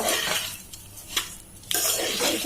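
Rice for pulao being stirred in a metal pot, giving a few short scraping, rustling bursts with quieter gaps between them, close by and with no talking.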